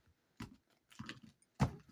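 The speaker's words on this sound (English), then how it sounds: "I give it a quick shuffle, see if it's the appropriate deck for this." A deck of In Your Hand Tarot cards gets a quick shuffle, producing three short, soft bursts of riffling card noise close to the ear with near silence between them.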